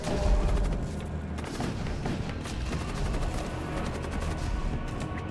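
Ship weapons firing at enemy shields in the Void War video game, a dense, continuous barrage of rapid shots and booming impacts over a low rumble.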